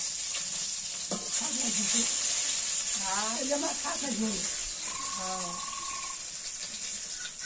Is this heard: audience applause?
no